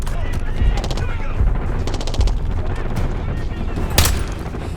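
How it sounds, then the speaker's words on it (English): Heavy automatic gunfire and explosions from the video game Call of Duty Black Ops 6, with rapid bursts and a loud boom near the end, under tense voiced dialogue. "We've got gunfire to the right."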